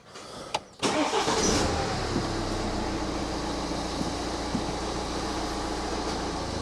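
A 2009 BMW 1 Series Coupe with a 2.0 diesel engine cranks briefly and catches, then settles into a loud, steady, close diesel idle that drones on without a break.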